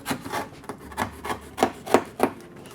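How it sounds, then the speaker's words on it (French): Cardboard being cut for a shadow theatre cutout, a series of short scraping, rasping strokes that grow more distinct toward the end, close and fairly quiet, with no voices. "C'est du carton, ça se coupe bien."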